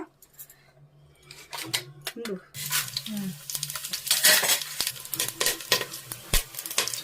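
Pulao spices fry in oil and ghee and are stirred in a pan. After a few clinks and small thumps, a loud, steady sizzle takes over, with scraping and metallic stirring knocks throughout.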